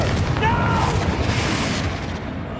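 A Confringo fire spell bursts with a booming explosion in Hogwarts Legacy, a loud dense blast with a rumbling tail lasting a couple of seconds, followed by crackling debris and game combat noise.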